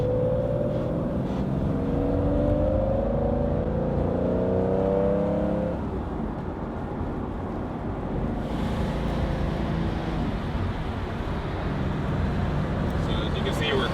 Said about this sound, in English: we're cruising here on the expressway with modern day traffic